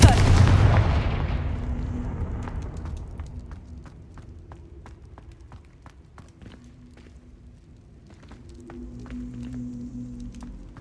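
In Hogwarts Legacy, a Confringo blasting spell bursts with a heavy booming explosion that fades slowly, followed by scattered sharp crackles and footstep-like taps, with another low rumble swelling near the end.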